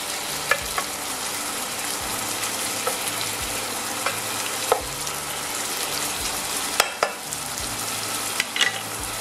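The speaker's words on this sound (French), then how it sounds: "On va faire évaporer le liquide." Chicken paupiettes for a girolle sauce sizzle and crackle steadily in a hot pan as their cooking liquid boils off, with scattered sharper pops and occasional stirring scrapes; no one speaks.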